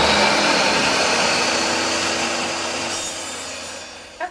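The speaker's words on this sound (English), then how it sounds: "I'm just cutting the corners at a 45 on the miter saw" A miter saw cuts 45-degree corners on pallet wood boards, a loud, dense whine of the spinning blade that slowly winds down, followed by a brief clatter at the end.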